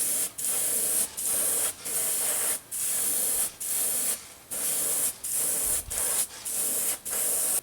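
Polyacrylic spray coat going onto three wooden mackerel swimbaits, heard as a run of close, loud hissing bursts of about half a second each, separated by short gaps, with no talking.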